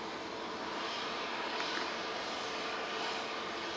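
An SAS Airbus A320neo at Manchester Airport, bound for Copenhagen, produces a steady, broad engine roar at moderate distance that holds even throughout with no voices.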